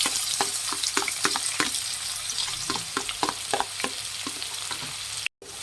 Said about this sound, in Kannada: ಈರುಳ್ಳಿ ಗೋಲ್ಡನ್ ಬ್ರೌನ್ ಬರೋವರೆಗೂ ಫ್ರೈ ಮಾಡಿ